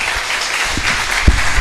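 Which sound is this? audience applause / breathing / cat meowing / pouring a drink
audience applause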